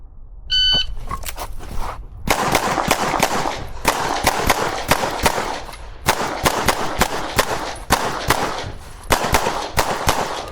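Rapid pistol shots from a CZ Tactical Sports, used for USPSA limited division shooting: a single sharp report opens, then tight strings of loud, close cracks ring out in quick bursts with short pauses between them.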